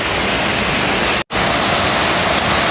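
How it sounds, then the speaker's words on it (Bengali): Heavy rain lashing down with strong wind during a Kalbaishakhi storm, a dense, steady roar that stays loud throughout except for one brief cut near the middle. "এখনও বৃষ্টি আর বাতাস হইতেছে"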